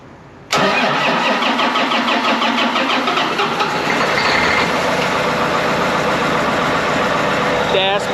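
A cold 1997 Power Stroke diesel that had been plugged in cranks and catches abruptly, then settles into a loud, rough, steady clatter close by.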